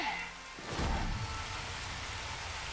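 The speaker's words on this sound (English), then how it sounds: "I'm about to use the ability Raindrops" Raindrops ability effect from the game Final Fantasy XV, a steady hiss of rain-like spatter with a low rumbling swell near the start, continuous and fairly loud throughout.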